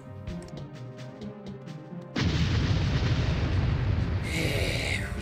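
A grenade explosion in the video game Army Men: Sarge's Heroes, one sudden loud blast that gives way to a sustained crashing rumble with debris-like hiss afterward.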